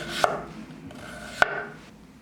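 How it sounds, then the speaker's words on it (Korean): A chef's knife slicing food on a cutting board in a cooking lesson, two sharp chops about a second apart, close and crisp in an otherwise quiet kitchen. "이런 식으로 끝까지 한번 썰어 볼게요. 이제 좀 속도를 좀 높여 볼까요?"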